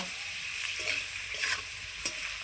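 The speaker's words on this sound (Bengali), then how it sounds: "আমার আলু আর সজনাটা খুব সুন্দর করে ভেজে নিয়েছি লাল লাল করে।" Potato and drumstick pieces with salt and turmeric frying in a pan, a close steady sizzle with intermittent spatula scrapes and a sharp clack near the end.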